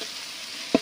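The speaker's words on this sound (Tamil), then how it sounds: "இஞ்சி பூண்டு பேஸ்ட்டு இதையும் போட்டு நல்லா கொஞ்சம் வதக்கணும்." Village-style chicken gravy sizzles steadily in the pan as ginger garlic paste is sautéed in, a continuous frying hiss with one short utensil clank near the end.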